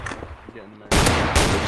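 Loud, dense video game gunfire from a shotgun bursts in abruptly after a quieter opening with faint talk, continuing as a heavy, sustained volley through the rest of the moment.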